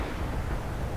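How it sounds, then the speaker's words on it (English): A destroyed mech explodes in the BattleTech video game, a dense, sustained low rumbling blast filling the whole second at steady loudness, with no voices over it. "Oh, that was a nice explosion."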